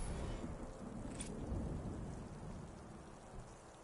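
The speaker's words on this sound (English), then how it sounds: "Oh wow, it's a storm in the background too." A storm in the Horizon Forbidden West video game, with steady, dense rain and a deep continuous rumble of thunder, loud and enveloping throughout with no talking.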